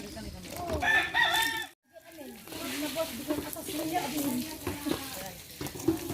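A rooster crows amid a noisy outdoor scene, with people talking nearby and a brief dropout partway through.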